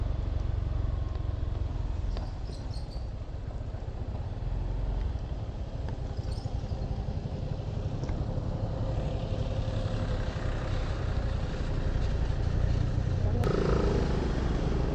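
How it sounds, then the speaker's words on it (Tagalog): A loud motorcycle engine rumbles steadily at close range throughout, with continuous low-end drone and roar during a group ride near Dibulo Falls, Aurora, occasional faint voices mixed underneath. "Ang lakas ng motor mo, para ka naka-muffler ah"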